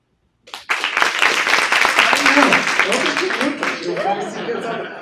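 A university audience bursts into applause at the end of a talk. The clapping starts suddenly and stays loud and dense, with voices starting to talk over it toward the end.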